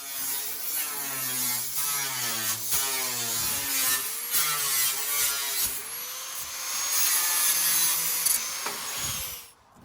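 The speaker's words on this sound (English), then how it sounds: "now with an angle grinder, we're just gonna cut it out" An angle grinder cuts out a steel patch for a rusted floor repair, giving a loud, continuous high-pitched whine whose pitch dips and rises as the cut bites, ending abruptly.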